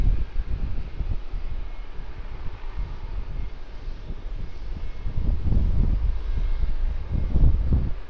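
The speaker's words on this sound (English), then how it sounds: "This might be the Emirates Airbus A380 arrival from Christchurch." An Emirates Airbus A380 arriving at Sydney Airport from Christchurch, heard as a steady low jet rumble with wind buffeting the microphone, swelling louder toward the end as it draws nearer.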